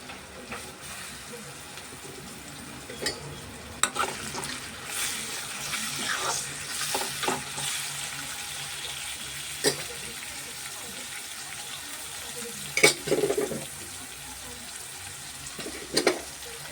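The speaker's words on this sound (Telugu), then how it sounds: "చూడండి, ఉల్లిపాయలు అయితే ఫ్రై అయితే అవుతున్నాయి కదా" Onions fry in a pan for a chana dal and drumstick tomato curry, giving a faint, steady sizzle with occasional louder stirring scrapes and clinks close by.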